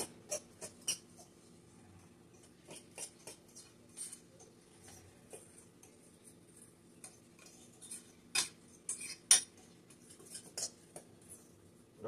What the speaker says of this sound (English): I like using a fork to kind of mix all the dry ingredients together.